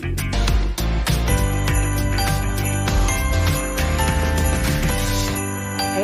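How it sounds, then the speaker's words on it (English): Bright jingling of small bells, steady and loud across the whole stretch with a festive tinkling shimmer, no voices over it. "I think I hear jingle bells."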